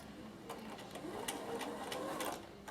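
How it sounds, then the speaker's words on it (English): A home sewing machine fitted with a no. 12 piping foot stitches fabric down onto cord, a quiet close whirring run with a fast, rhythmic needle clatter, briefly steady before slowing at the end. "I'm going to stitch this down onto here just with my machine to hold it"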